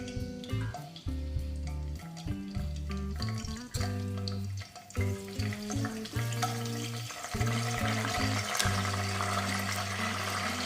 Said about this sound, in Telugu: ఇక్కడ ఆయిల్ హీట్ అయింది. ముందుగా కరివేపాకు యాడ్ చేస్తూ ఉన్నాను.